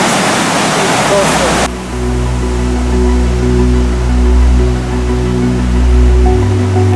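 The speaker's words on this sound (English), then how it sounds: "It wasn't very hard to pass through the waterfall in the snow" A waterfall in the snow of the Alps, on the crossing from France to Italy, roars as a loud, dense, steady rush of water, joined after a moment by a low sustained hum.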